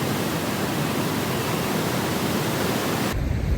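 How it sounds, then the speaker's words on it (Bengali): Heavy rain pouring near Niagara Falls, a loud, steady, dense hiss with no gaps that cuts off abruptly just before the end. "খুব বৃষ্টি হচ্ছে"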